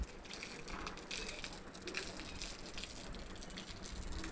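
A mother pours water outdoors on a hot summer day: a continuous, faint, hissing splash of flowing water that holds steady throughout with no voices.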